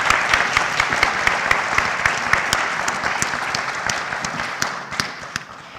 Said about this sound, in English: let us all give a big round of applause to these candidates